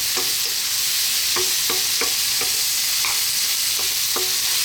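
Tomatoes sizzle steadily as they cook down in a pan over medium heat, with a constant frying hiss beneath a series of soft scraping stirs spaced irregularly throughout, and no voices.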